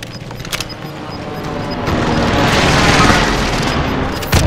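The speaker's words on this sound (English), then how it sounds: "Allied precision airstrike incoming." Airstrike explosions in Call of Duty: Modern Warfare, where scattered gunfire gives way to a deep, swelling roar of booms that peaks midway and then slowly rolls off.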